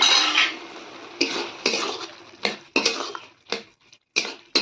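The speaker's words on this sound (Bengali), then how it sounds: "এবার আমি এটাকে সার্ভিং বলে নামিয়ে নেব।" A metal spoon scrapes and clinks against a pot while milk bottle gourd, a sweet dish finished with sugar and ghee, is served out, giving several sharp separate clanks with short pauses between them, close and clear.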